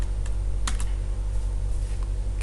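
Computer keyboard keys pressed a few times, with a couple of sharp clicks including an Enter press, heard close over a steady low electrical hum.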